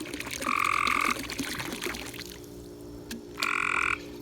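A frog stuck in a backyard swimming pool gives two loud, buzzy croaks spaced a few seconds apart, close by over a faint constant hum and background murmur.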